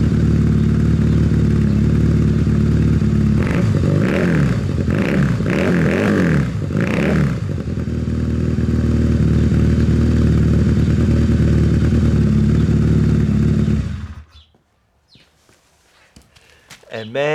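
A Honda CB250 motorcycle engine runs at a steady, loud idle with a few brief revs and clattering near the start, then cuts off abruptly near the end, leaving quiet; a voice talks over part of it.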